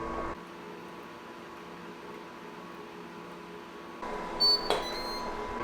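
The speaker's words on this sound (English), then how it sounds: "this device just beeped, which means that this frozen juice is ready" A Ninja Slushi machine churning frozen juice gives a steady mechanical hum, then a short high electronic beep sounds near the end once it is ready.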